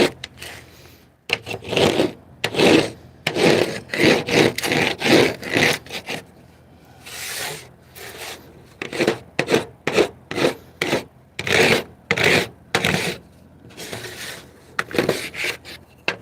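A paint scraper scraping dried acrylic paint off a palette, close and dry, with repeated rhythmic rasping strokes in quick bursts separated by short pauses.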